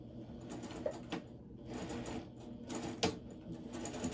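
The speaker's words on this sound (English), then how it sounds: "Alright, sewing machine, you're gonna not act up now" A sewing machine runs while a cross body bag is being made, a quiet rhythmic mechanical whirring with short bursts of stitching and brief pauses between them.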